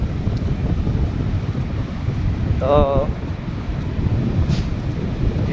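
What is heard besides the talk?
sea waves on a windy beach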